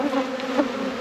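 Honeybees buzz in a steady, close drone during an inspection of a hive after winter, the tone swelling slightly as individual bees pass near.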